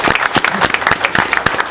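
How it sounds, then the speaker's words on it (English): Council meeting audience applauding in a town hall, a dense, steady burst of many hands clapping close and loud throughout, with no voices over it. "You can give a round of applause on that"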